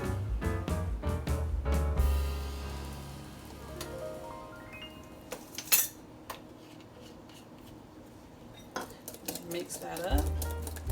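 Buttermilk pie filling with vanilla and lemon being mixed in a bowl, a utensil clinking and scraping in quick irregular strokes, busy at first, then thinning to sparse taps.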